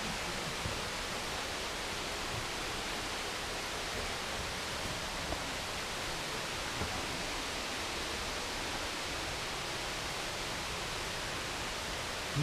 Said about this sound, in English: It sounds like the water could be right up there, doesn't it?